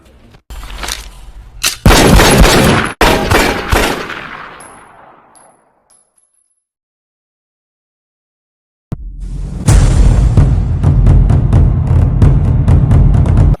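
Loud bursts of rapid gunfire in a film crack out with a ringing tone, fade into silence for a few seconds, then another fierce volley of shots erupts.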